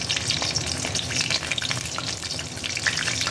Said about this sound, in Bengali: এবার দিয়ে দেবো কিছু কাঁচা লঙ্কা।